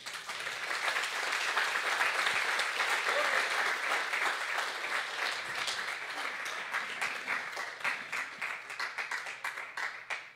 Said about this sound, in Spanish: Yo le daría un aplauso al Señor, hermano